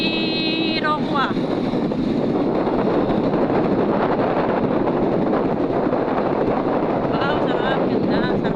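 Strong wind buffets an open boat heading out toward a paradise-like spot, a steady broadband roar blowing across the microphone, with voices speaking briefly near the start.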